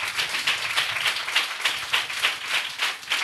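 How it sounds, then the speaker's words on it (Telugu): A prayer-meeting congregation claps together in a steady, rhythmic beat, loud and sustained without pause, each clap sharp and evenly spaced. "విశ్వాసముతో గట్టిగా చప్పట్లు కొట్టండి"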